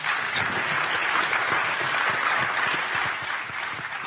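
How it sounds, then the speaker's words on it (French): An audience at a round-table event applauds steadily and loudly, a dense wash of clapping hands that carries on throughout, easing slightly near the end. "que nous applaudissons bien fort."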